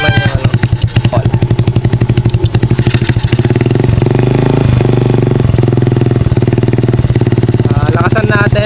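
A motorcycle idles loudly and up close with an adjustable backfire and idle-rumble exhaust fitted. The engine pulses in a fast, steady chug, then swells into a heavier, throbbing rumble with rhythmic stutters, and someone talks over it.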